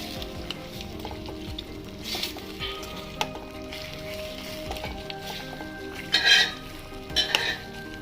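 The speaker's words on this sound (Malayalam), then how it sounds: "ഇതിലേക്ക് ഒരു ടേബിൾ സ്പൂൺ വിനാഗിരി കൂടെ ഒഴിച്ചു കൊടുക്കാം എല്ലാം നന്നായിട്ടൊന്ന് ഒന്ന് ഇളക്കി കൊടുക്കാം" Pork curry cooked Kerala style with vinegar sizzles steadily in the pan while a spoon stirs it, scraping the pot, with a couple of louder stirring clatters near the end; no voices.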